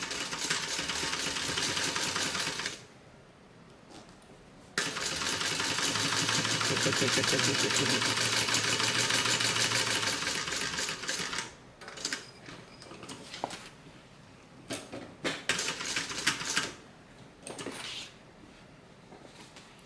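A sewing machine stitches down one side of a handmade bag, its motor whirring steadily in a long loud run, then stopping and restarting in shorter bursts with quiet gaps between.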